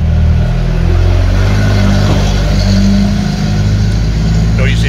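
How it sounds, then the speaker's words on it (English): A noisy lorry passes on a road in Thailand, its heavy engine rumbling loud and close in a steady drone that swells slightly as it goes by. "Noisy lorry."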